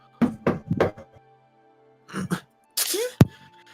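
Knocking on a door in a roleplay story, a few sharp raps heard up close, with other scattered sound effects between them.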